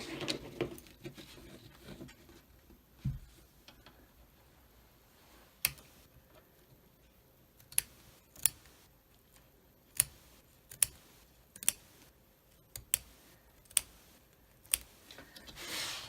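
Sharp scissors snipping loose thread and embroidery stitching off the top edge of an in-the-hoop cutlery holder, a series of crisp close clicks coming faster and more regularly in the second half, in a quiet room with no talk.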